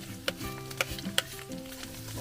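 Ginger sautéing in a pan, a steady close sizzle with a few sharp clinks of a utensil against the pan.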